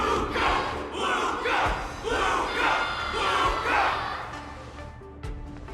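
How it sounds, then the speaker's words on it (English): A large crowd in the Honkai: Star Rail video game roars and chants for a fighter, rising in repeated rhythmic surges of shouting that swell and fade, then taper off near the end. "Everyone's cheering for you, Luca!"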